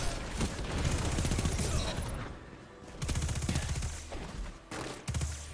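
Repeated heavy weapon shots from the Arbalest in Destiny 2, loud bursts in a dense run with short gaps between them and no talk over them.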